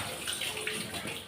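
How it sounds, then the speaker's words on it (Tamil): Water splashing and sloshing as a brass kuthu vilakku lamp is rinsed in a basin, a soft continuous wash with small swirling surges, close and fairly quiet. "இப்போ இதை வந்து இன்னொரு தண்ணியில் கழுவிடுவேன்"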